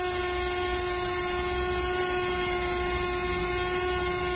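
A SHARDOR adjustable electric coffee grinder runs with a steady, even motor whir and a constant tonal whine, moderately loud and unbroken, with no voices.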